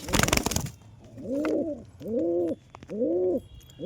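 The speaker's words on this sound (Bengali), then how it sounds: "ম্যাটাজের সাথে দেশি গিরিবাজ কবুতরের জোড়া দিচ্ছি" Pigeons coo in a loft where a Maltese pigeon is paired with a local Giribaz tumbler: three steady, rounded coo phrases follow a brief loud burst of noise at the start, close and clear with no talking.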